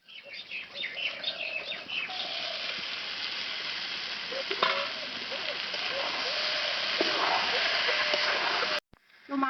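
Duck meat tipped into fried spice masala in a pan, giving a steady, dense sizzle that runs almost unbroken before a short gap and a clunk at the end.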